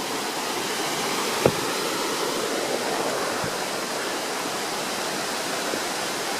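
Steady rushing of a creek along the Appalachian Trail in Pennsylvania, continuous and fairly close, with a couple of faint knocks partway through and no voices.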